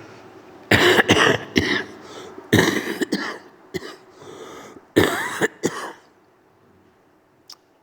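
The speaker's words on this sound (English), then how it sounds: "I'm sorry about the coughing." A person with a cold coughs hard and repeatedly, a fit of harsh bursts close to the microphone that tapers off into a few lighter coughs.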